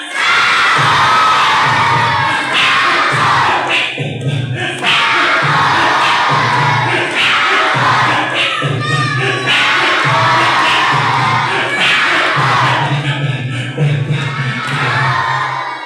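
A crowd of primary schoolchildren at an event welcoming Ramadan shouts "sahur" over and over to practise waking people for the pre-dawn meal, loud, excited and rhythmic chanting that fills the room.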